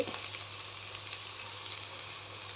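Steady oil sizzle from eggplant rice frying in a pan as masala spice mix is added, close and continuous with a constant low hum underneath and no talking.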